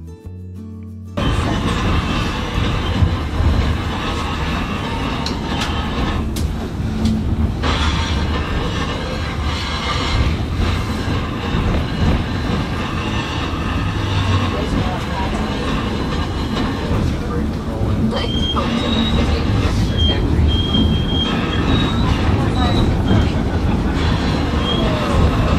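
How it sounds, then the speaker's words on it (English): White Pass & Yukon Railroad train braking on the descent from the mountains, a loud, continuous rumble with squealing brakes and high metallic whines rising over the running noise. "There's lots of brake noise."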